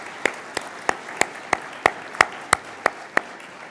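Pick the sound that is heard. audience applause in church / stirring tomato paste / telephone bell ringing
audience applause in church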